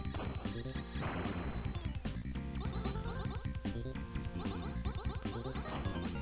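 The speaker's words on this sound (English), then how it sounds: "May the sound of my UFO car crashes lull you to sleep." Repeated UFO car crashes and thuds in the video game UFO 50 punctuate busy electronic game music, with bursts of smashing noise landing irregularly over several seconds.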